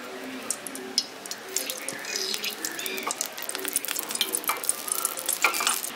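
Three spoons of white oil heating in a kadai wok: a soft, crackling sizzle mixed with light scraping clicks, close but fairly quiet and growing busier toward the end.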